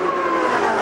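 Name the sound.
Jaguar XKR race car engine on a straightaway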